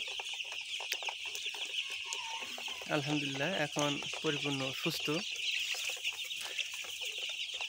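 Domestic chickens recovering from salmonella cluck in a rapid, repeated burst midway through the clip. A person talks over a constant background hiss.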